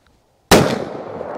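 A .500 Magnum revolver fires a single very loud, close shot that cracks sharply after a near-silent start, then a booming decay rings out across the rest of the clip.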